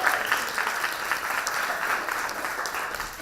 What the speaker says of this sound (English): So let's just take a moment to cheer for Vanita's new book.